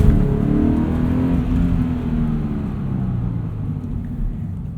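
Subaru BRZ flat-four with a catted UEL header and stock exhaust, rumbling loudly and steadily from inside the car as it cruises under gentle throttle, with no talking.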